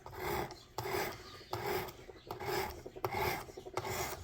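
Rhythmic rasping of a karambit folding knife blade stroked on a Work Sharp precision sharpener, about six close, steady up-and-down passes, each a short gritty scrape.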